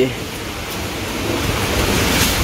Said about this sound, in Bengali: কি মন বৃষ্টি নামলো রে